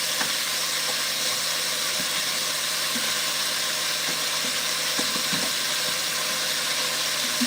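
Oxtail pieces sear in a hot pan, giving off a steady, even sizzling hiss throughout with occasional faint pops and clicks, at moderate level with no talk.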